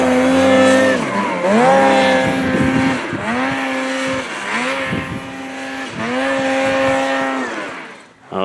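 A Ski-Doo Turbo 165 long-track snowmobile on a hillclimb, its engine loud and close, revving hard in repeated rising and falling surges with a harsh, sustained roar.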